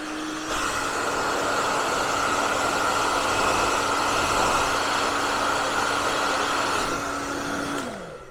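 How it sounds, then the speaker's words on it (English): A steady whooshing blower runs continuously at high volume for several seconds, then cuts off with a falling tone, like a hair dryer switched off. "It's a hair dryer, sorry, not a heat gun."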